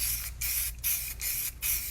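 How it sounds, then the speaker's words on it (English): Four short bursts of lacquer spraying from an aerosol can onto water, hissing in quick succession, each about a third of a second, separated by brief pauses, close and fairly loud. "So I am spraying this lacquer directly on top of this water"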